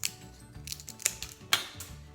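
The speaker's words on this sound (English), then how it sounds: "You can cut these with scissors." Scissors snip through thin wooden sticks for a small box build, three or four sharp, close crunching cuts with short pauses, over faint background noise.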